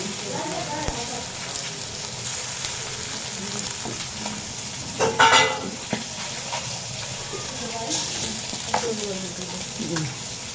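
A blended paste of dried red chili, onion and ginger sizzling and frying in a pan, a steady close hiss with occasional stirring scrapes and a brief louder spatter midway.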